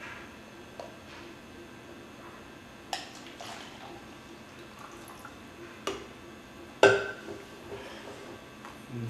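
Water is poured back from one small cup into another, giving quiet trickles, a few light splashes and drips, and small clicks of the cups being handled nearby.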